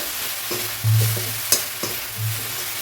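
Grated coconut being fried in a pan for a pepper, tomato and greens stir-fry, with a few scraping stirs over a low, steady sizzle and a sharp clink of the utensil midway.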